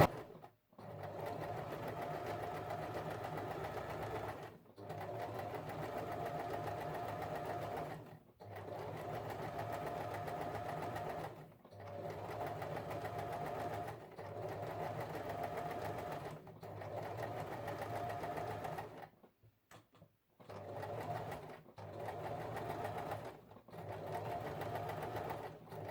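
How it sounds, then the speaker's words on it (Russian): Sewing machine stitching fabric trim with parallel pin tucks, running in long steady whirring runs broken by brief pauses, close and even, with no talking. "И аккуратненько, не спеша, мы прострачиваем."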